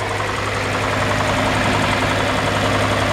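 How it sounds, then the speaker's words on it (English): The six-cylinder engine of a 1964 Ford F350 idles with solid lifters, giving a steady, loud, close rumble with a fine rapid ticking clatter, no voices over it. "those solid lifters almost makes it sound like a little diesel engine"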